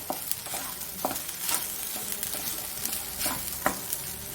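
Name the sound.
nuts frying and being stirred in a pan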